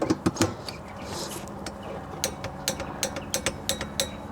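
Torque wrench with a 2-inch extension tightening a 14mm bolt on a Lexus GX460, producing a series of sharp close clicks and ratcheting ticks, sparse at first and then faster, over faint background noise.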